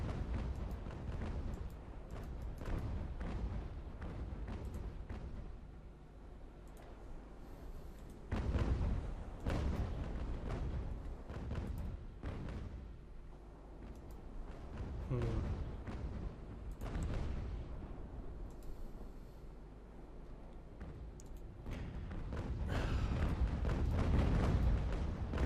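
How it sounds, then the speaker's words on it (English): Cannon fire from sailing warships in Ultimate Admiral: Age of Sail, a run of heavy booms over a continuous low rumble, with repeated bursts going off throughout the battle. "I shouldn't forget to use good cannons here."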